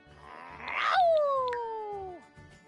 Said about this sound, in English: then you won't have to hear the howling like this anymore.